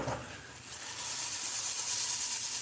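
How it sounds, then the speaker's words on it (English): A steady high hiss of peas sizzling in a hot pan, growing a little louder and brighter as it goes on, with no voices. "You hear that sizzle?"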